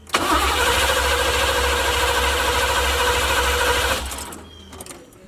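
A Chevy box car engine runs loud and steady for about four seconds, roughness audible in its uneven drone, then abruptly cuts out and leaves near silence with a few faint clicks.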